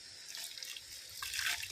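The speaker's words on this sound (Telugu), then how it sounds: "కొంచెం వాటర్ అయితే పోసేసుకుందాం" Water is poured into a pan of chicken gravy curry spiced with whole garam masala, making a steady, close splashing stream with no other sounds.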